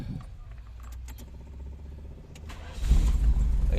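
A carburetor-converted automatic-transmission motorcycle engine with one-click electric start turns over near the end after some key rattling, then settles into a loud, close, steady idle.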